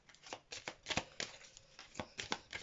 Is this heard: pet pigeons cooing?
no